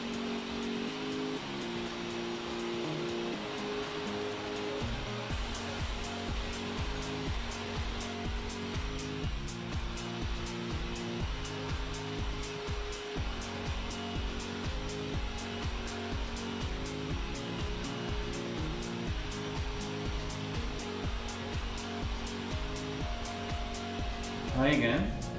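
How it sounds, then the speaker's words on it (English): Xtava Allure Supreme hair dryer blowing hair straight, a steady loud airflow roar held close throughout, with a brief louder rise near the end; music plays softly underneath. "It is a powerful blow dry, so I recommend do not touch the hair and very close to it."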